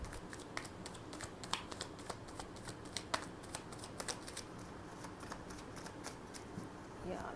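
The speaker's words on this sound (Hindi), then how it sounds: "एक बार मैं कार्ड्स निकाल लूँ सारे" Tarot cards are shuffled and drawn with soft, rapid riffles and light slaps and taps, scattered clicks repeating close by over a quiet room hush, with someone speaking now and then.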